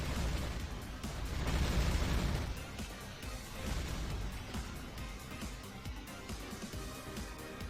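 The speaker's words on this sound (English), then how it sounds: "I like the explosions here." Explosions in the shooter Powerslave during a boss fight, a dense, loud run of booming blasts, crashes and pops that swells early and keeps rumbling without a break.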